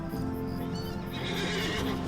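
Horse neighing and whinnying in Lord of the Rings Online, with faint hoof clip-clop and dense game ambience running steadily beneath, loud and close throughout.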